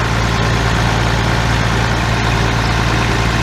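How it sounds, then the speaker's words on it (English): The motor of an 8700 running at a steady idle, a loud, unbroken low engine drone with no variation in rhythm. "I forgot to hit the start button when I started the motor, but it's running now"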